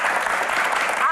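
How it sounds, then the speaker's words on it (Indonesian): A studio audience applauds the panelists on a talk show's special edition, a brief, steady, dense burst of clapping with a voice faintly mixed in. "Langsung saja kita berikan tepuk tangan yang paling meriah untuk panelis kita di edisi spesial ini."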